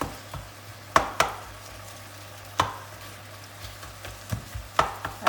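Savory oats with mushrooms being mixed in a pan, a low sizzle underneath several sharp utensil knocks and scrapes against the cookware, irregular and close, with no talking.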